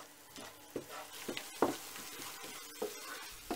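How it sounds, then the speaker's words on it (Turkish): Flour toasting with garlic in a pan is stirred steadily, giving a quiet sizzle broken by irregular scraping strokes of the spoon against the pan. "sürekli unumuzun yanmaması için kavrulurken karıştırıyoruz"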